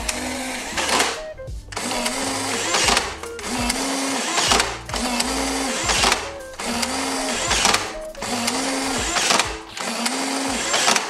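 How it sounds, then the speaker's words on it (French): Nerf Elite Infinus motorized blaster auto-loading foam darts into its magazine: a steady whirring, grinding motor sound repeating in several bursts with brief pauses between, close and fairly loud. "il faut mettre les fléchettes à l'intérieur et elles viennent se ranger automatiquement dans le chargeur"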